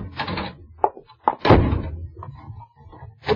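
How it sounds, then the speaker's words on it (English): Radio drama door sound effect: a door is shut with several heavy wooden thunks and knocks, then a lock rattles, close and sharp with quiet gaps between. "It's no use locking yourself in there, Paul."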